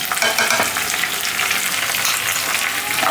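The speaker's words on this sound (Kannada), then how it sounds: "ಇದಿಷ್ಟು ಹಾಕ್ಕೊಂಡು ಅದೇ ಸ್ವಲ್ಪ ಲೋ ಫ್ಲೇಮಲ್ಲಿ ಇನ್ನೊಂದು ನಿಮಿಷ ಹುರ್ಕೊಳ್ಳೋಣ" Green chillies, curry leaves and finely chopped ginger frying in oil on a low flame, a steady, even sizzle and crackle throughout with no talking.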